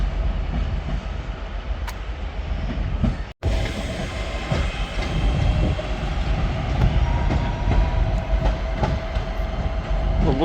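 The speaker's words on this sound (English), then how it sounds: "Well, looking at trains" Trains at Manchester Piccadilly station on an overcast day, a steady low rumble of rolling stock with faint clattering and occasional brief metallic squeals, fairly distant and continuous with no talk.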